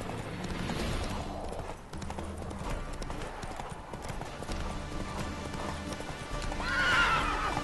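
Horse hooves clip-clop steadily in The Witcher 3, a rhythmic trot under game ambience, followed near the end by a clear neigh.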